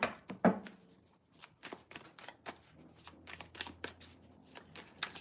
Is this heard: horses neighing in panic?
no